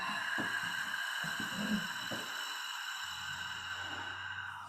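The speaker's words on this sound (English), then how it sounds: "Hold the breath. And exhale." A single slow exhale of a held breath during a guided breathing exercise, a soft breathy rush that tapers off, close and quiet with no talking.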